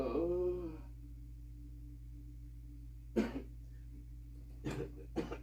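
A short burst of coughing, then a pair of quick coughs a moment later, over a steady low hum. A brief voiced sound opens the clip.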